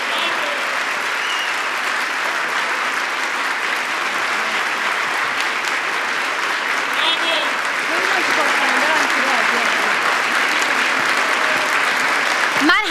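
Audience applause at a human rights event about Iran, sustained steady clapping from a large crowd for the whole stretch, dense and fairly loud, without talk over it.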